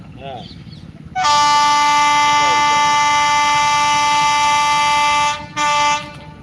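A loud, sustained Vande Bharat train horn blares for several seconds with a brief break, over the rumble of the train passing close by at Usilampatti.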